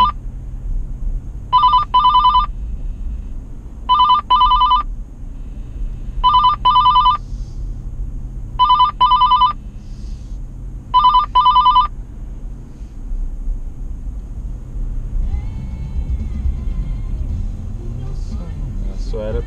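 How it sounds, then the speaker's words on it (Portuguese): A telephone rings in a repeating pattern of paired electronic trills, five double rings evenly spaced over a low rumbling background, with voices talking faintly underneath. "Tem alguém ligando aí, hein?"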